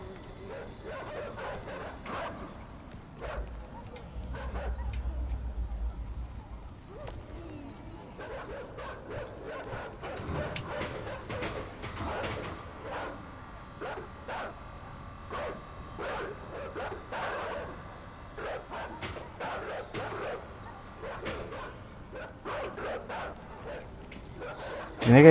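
Dogs bark, yip and whimper in scattered bursts at close to medium range, mixed with rustling, while people talk in Spanish now and then.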